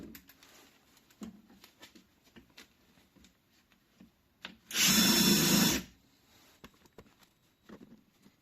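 Power drill driving screws into wood while building a cat house, one loud continuous burst of about a second, with quieter workshop knocks and faint bird calls before and after.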